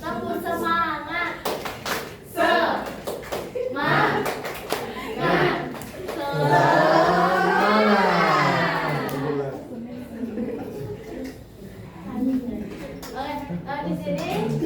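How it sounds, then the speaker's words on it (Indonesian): Classroom of children doing the rhythmic 'tepuk semangat' clapping routine: bursts of claps alternate with chanted and sung voices. The claps sit close and moderately loud, woven among speech. "Dan di sini Ibu akan mencontohkan tepuk semangat"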